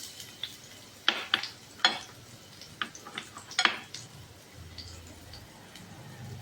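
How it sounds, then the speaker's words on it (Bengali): Chopped carrots drop into hot refined oil in a pan, giving a low, quiet sizzle broken by several sharp clicks and scrapes of stirring utensils. "এবার আমি গাজর কুচিগুলো তেলের মধ্যে ছেড়ে দিলাম।"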